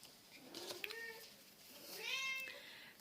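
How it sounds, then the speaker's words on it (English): A cat meows twice nearby, two drawn-out rising-and-falling calls with a pause between, faint against a quiet background. "that's a cat."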